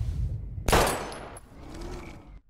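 Gunfire in the video game Life Is Strange: a sudden loud burst of shots cracks out after a low rumble, then fades into a lingering ringing tail and a quieter background.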